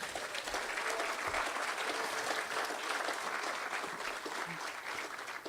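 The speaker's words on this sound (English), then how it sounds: "give them a big round of applause" An audience applauds program funders at a summer arts gathering, with broad, continuous clapping from a sizable crowd, steady in level throughout and moderately distant.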